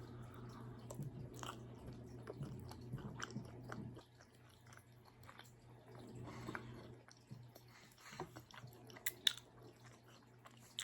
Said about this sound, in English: I'm gonna taste one that don't have that much ranch on there